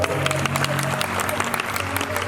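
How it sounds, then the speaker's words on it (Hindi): An audience at a temple darbar bursts into dense, sustained applause, loud and continuous from start to finish, with a voice faintly audible beneath the clapping. "ताली बजा दो दरबार की"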